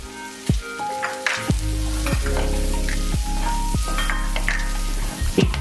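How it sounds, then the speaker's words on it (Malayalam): Shallots and chopped garlic sauté in a pan with a loud, continuous sizzle. Repeated spatula scrapes and clanks recur every second or so, and no one speaks. "ഇനി ഇപ്പൊ ഇത് ഇത്രയും വഴറ്റിയിട്ടുണ്ട്."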